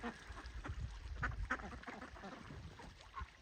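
Ducks on a farm pond quacking in a loose, overlapping chatter, fairly close, with a few geese nearby and steady outdoor background noise throughout.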